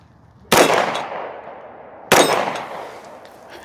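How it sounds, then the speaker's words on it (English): Two sharp, loud pistol shots from a Tisas BR9 DS, about a second and a half apart, each followed by a short echoing decay outdoors. "let's take another couple shots for those guys who say I'm talking without shooting"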